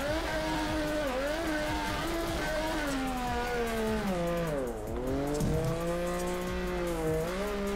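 A small FC drift car in the Torque Drift racing game, its engine howling steadily at high revs with pitch swinging up and down through the slides, loud and continuous with no talk.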